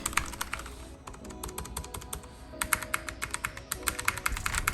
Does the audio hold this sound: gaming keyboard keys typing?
yes